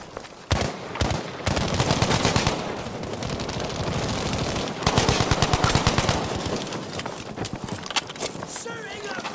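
Rapid machine gun bursts in Battlefield V, loud and close, with dense rattling volleys running almost the whole time and a brief lull near the start, mixed with other battle noise.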